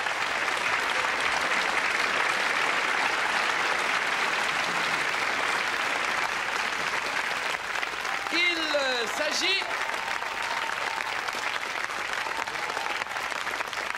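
A television studio audience applauds a contestant on a French variety show with sustained, loud, even clapping throughout, and a brief whistle-like tone rises partway through.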